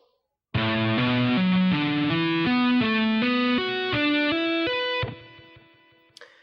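Distorted electric guitar runs through a fast tapped lick of stepping notes, rising in pitch over several seconds before the final note fades out.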